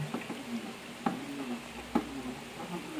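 A homemade dishwashing liquid mixture stirred by hand, soft liquid swishing with a few distinct knocks of the stirrer against the container, close and quiet, no talking.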